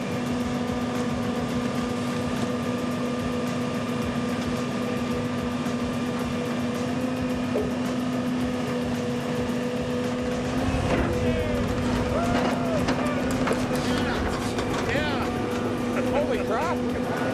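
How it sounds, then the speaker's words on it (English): An excavator drags a log into a streambank for erosion control, its engine holding a steady, loud drone throughout, with cracking and creaking from the wood and machinery in the last few seconds. "We're going to try just sticking it, pulling it in with the excavator and pulling it right into the bank."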